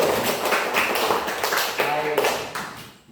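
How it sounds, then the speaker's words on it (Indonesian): Hands clap together in a dense, steady burst of applause from a classroom of children at a Catholic religious lesson, filling the whole stretch before tapering off at the end, with some voices mixed in. "tepuk tangan untuk Cindi dulu."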